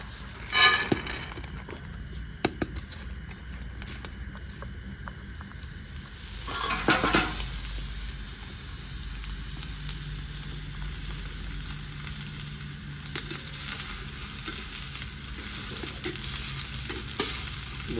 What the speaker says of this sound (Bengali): বন্ধুরা এবার ফ্রাই প্যানটা দেবো, এটাতে আমি ভুট্টা একটু হালকা করে রোস্ট করবো।